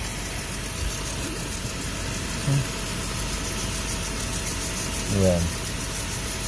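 A motorcycle engine idles nearby as a steady low hum under the background noise, with a brief voice and a short louder rise near the end.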